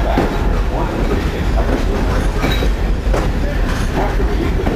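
A heritage train runs on rails through a signalized crossing, steady loud rumbling with rhythmic wheel clatter, heard from aboard.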